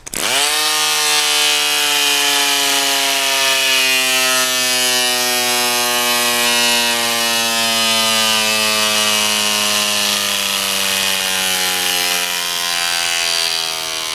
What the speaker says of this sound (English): the motor runs for a pretty long time until it finally starts stuttering